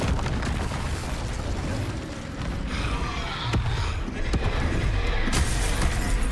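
An Incendio fire spell cast in a video game, heard as a dense roaring, crackling burst of flame and impact noise that stays loud for several seconds, with sharper pops partway through.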